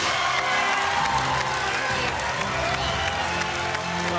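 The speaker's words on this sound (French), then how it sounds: "On peut applaudir bien fort Alexis Steinmann." A large crowd claps and cheers loudly and continuously, with whoops rising over the dense applause throughout.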